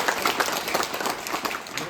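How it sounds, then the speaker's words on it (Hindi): A group of schoolchildren at a school camp claps hands together in a brief burst of quick, uneven clapping, close by and fairly loud, with some voices mixed in. "ताली बजा।"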